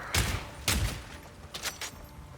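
Video game gunfire while playing with a Gamrombo RH 5188 controller: two loud blasts followed by a quicker cluster of lighter shots, heard alone.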